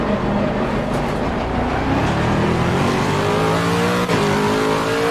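A race car engine in the video game Assetto Corsa Competizione revs steadily with rising pitch, loud and close, a continuous mechanical roar with gear-like shifts and no talking.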